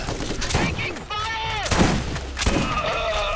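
Gunfire in the Borderlands video game, several sharp bursts and shots mixed with whooshing game effects and overlapping voices, loud and close.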